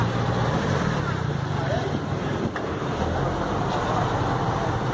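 A motorboat engine drones steadily up close leaving port at Ilha Grande, Angra dos Reis, with wind and water rush mixed in and faint voices underneath.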